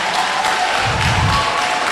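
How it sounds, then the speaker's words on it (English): Audience applause at a schools programme event, a dense, continuous sheet of clapping from a large crowd, loud and close throughout. "Can we give them a round of applause?"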